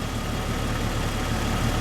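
A 1997-or-later Jeep Cherokee XJ engine idling with its revs set slightly high, a steady, even drone with no change in pitch across the short stretch.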